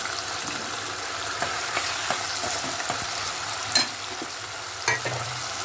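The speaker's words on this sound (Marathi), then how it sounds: "डाळला थोडा तेलामध्ये परतवायचं आहे 5 मिनिटं." Lentils frying and being stirred in hot oil, a steady close sizzle with occasional scrapes and clinks of a spoon against the pan.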